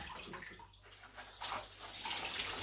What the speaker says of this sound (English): All I then do then is rinse the glove out with cold water.